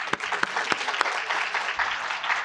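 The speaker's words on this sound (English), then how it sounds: "Get another round of applause." Audience applause at a leadership academy cohort closing ceremony, dense continuous clapping with a few sharp close claps standing out, sustained evenly throughout.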